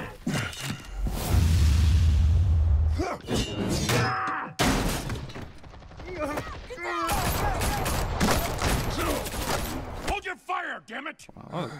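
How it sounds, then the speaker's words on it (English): Police open fire on Batman in Batman: The Telltale Series, a loud burst of rapid gunfire followed by more shots and impacts mixed with game effects, while someone talks over the action. "Cops shooting at Batman, damn it."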